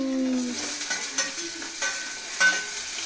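Tomatoes added to hot oil in a pan, making a soft hiss with scattered stirring clinks and scrapes, fairly quiet and close.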